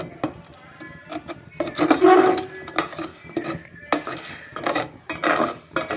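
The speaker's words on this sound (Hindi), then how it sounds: "आप चम्मच आस्ता आस्ता हिलाते जाएं साथ" A spoon stirs milky, sugared tea in a pot, giving intermittent scraping clinks and taps of metal against the pot at an unhurried pace, fairly close.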